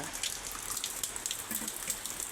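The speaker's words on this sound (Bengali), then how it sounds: "দেখো বৃষ্টি হচ্ছে সকালবেলায়, রাত্রের থেকে সমানে বৃষ্টি হয়েই চলেছে" Steady morning rain after a night of continuous rainfall, a soft even patter with scattered drips close by, no voices.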